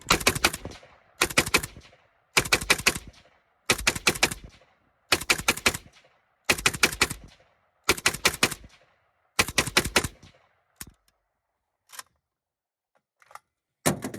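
Bursts of automatic fire from a Yugo RPK M72B1 rifle, about eight sharp, loud strings of rapid shots spaced by short pauses, then a few isolated metallic clicks and clanks, close and without talk.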